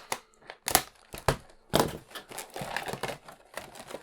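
Scissors snip and crinkle through plastic packaging holding dinosaur nestling figures, a series of sharp cuts and rustles with quieter crinkling between.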